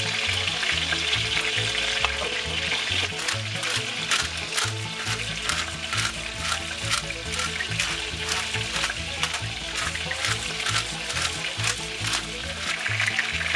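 Salt-and-pepper-seasoned chicken thighs browning in a frying pan give a loud, continuous sizzle with dense crackling pops that run steadily throughout, close up.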